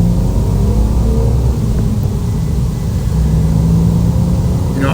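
A 1999 BMW M Coupe with its S52 straight-six and a fresh clutch drives along a road, its engine note a steady loud rumble with road and wind roar throughout and no voices.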